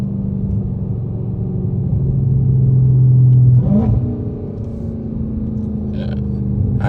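A supercharged Dodge Charger Hellcat engine revs loudly in a steady rumble that swells into a bright rising whine, then settles back to idle.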